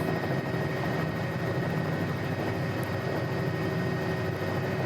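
A Bell 206 L3 Long Ranger helicopter in Microsoft Flight Simulator drones steadily with a constant rotor and turbine hum, loud and unbroken.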